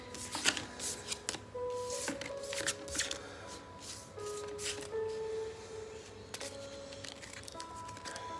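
Tarot cards being shuffled up close, a steady run of papery riffles and slides with a few sharper flicks, no talking.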